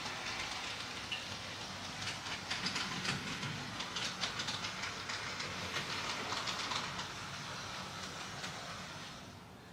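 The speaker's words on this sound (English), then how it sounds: "And then I'm bringing out the 440 locomotive." An On30 scale model train with a 440 locomotive running steadily, a continuous close rattle and fine clicking of wheels on track at even level, easing off slightly at the end.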